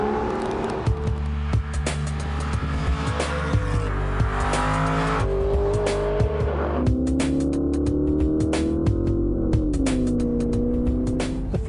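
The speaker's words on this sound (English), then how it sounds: "Aston Martin is now bringing me a Virage convertible for an afternoon drive in the countryside," A 490 bhp Aston Martin Virage convertible drives through countryside, its engine droning loud and close with rising and falling pitch as it accelerates and shifts, steady for the whole stretch.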